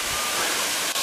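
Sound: Sengdip waterfall in Papua New Guinea, about 4 meters high

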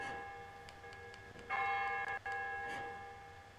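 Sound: bells being pulled in the video game Silent Hill Downpour

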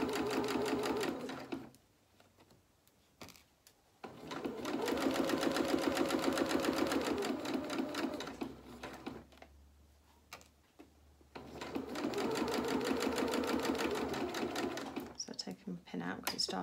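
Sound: sewing machine stitching a doll shirt

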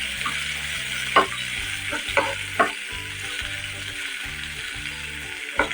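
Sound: cauliflower and potato frying, stirred

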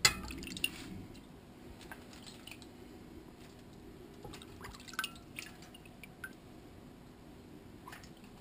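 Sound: pouring broth over meat for aspic

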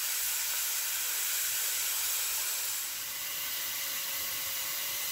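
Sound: namkeen gosht mutton cooking on medium heat

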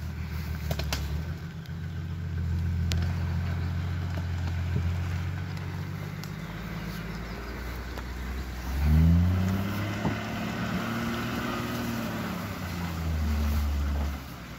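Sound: car engine revving

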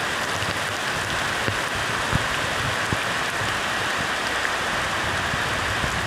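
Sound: heavy rain falling

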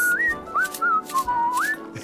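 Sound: whistling

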